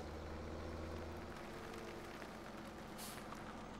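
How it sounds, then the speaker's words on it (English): Tractor engine in a farming game, a steady low drone running with no ballast weight, constant and fairly loud with no talk over it. "I was curious on how well this tractor would work with no weight."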